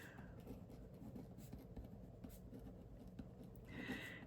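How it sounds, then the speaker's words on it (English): A pen scratches out a handwritten note at a market stall, a soft continuous scribbling with brief strokes and pauses, close but quiet against faint background murmur. "So I need to write myself a note."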